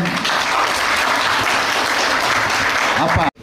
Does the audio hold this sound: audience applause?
yes